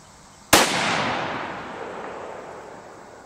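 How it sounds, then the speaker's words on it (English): One loud, sharp .204 Ruger rifle shot fired without a muzzle brake, a sudden crack followed by a long echoing tail that slowly fades outdoors. "first shot's going to be with no muzzle brake"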